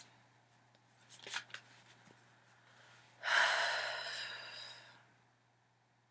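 Tarot cards are shuffled close by: a few quick riffling flicks, then a longer soft shuffle lasting about two seconds, in an otherwise quiet room.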